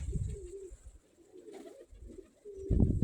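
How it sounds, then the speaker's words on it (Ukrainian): Pigeons coo softly and intermittently near a dovecote, low murmuring calls in short bursts separated by near-quiet gaps. "Починають вилітати голубятні."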